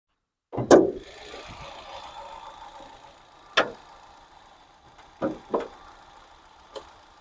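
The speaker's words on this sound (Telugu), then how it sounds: "ఇంజన్ బీటింగ్ కూడా బాగుందండి." A 2019 Hyundai Grand i10 Sportz petrol engine idles with a steady, even hum, broken by a few sharp knocks and thumps close by, with no talking.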